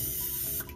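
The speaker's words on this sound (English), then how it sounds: "So now y'all see that Pam spray?" Pam cooking spray hisses from an aerosol can in one steady, close burst that cuts off near the end, with no talking.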